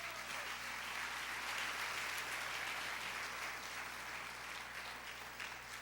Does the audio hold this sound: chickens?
no